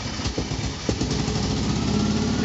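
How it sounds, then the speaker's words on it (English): A BMW Isetta's small engine runs close by with a steady, buzzing mechanical drone. Its low pulsing rumble holds level with slight rises in intensity, as if lightly revved, and a couple of faint knocks are heard near the start. "I can hear the engine whirring"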